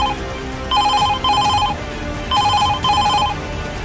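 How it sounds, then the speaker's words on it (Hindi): A telephone bell rings in two double bursts, bright trilling rings with short gaps between, heard alone with no talking, in the office of Israel's prime minister Benjamin Netanyahu. "फोन की घंटी इजराइल के प्रधानमंत्री बेंजामिन नेतन्याहू के दफ्तर में बजी"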